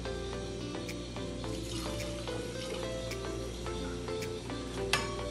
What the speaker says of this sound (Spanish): En ella vamos a colocar una taza de agua.